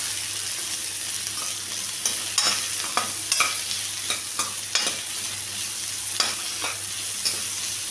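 Crab gravy base sautéing with salt in a pan: steady frying sizzle with intermittent stirring scrapes and clinks, close and fairly loud, no talking.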